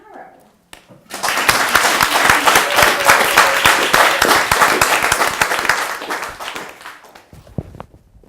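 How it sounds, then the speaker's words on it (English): An audience bursts into loud applause welcoming a speaker to the stage, dense clapping rising after a brief pause, holding steady for several seconds, then thinning out near the end. "please join me in giving Spence a huge round of applause"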